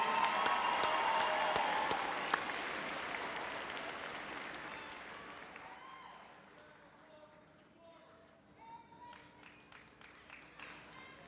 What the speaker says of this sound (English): Let's give them one round of applause again as they make their way back to their seats.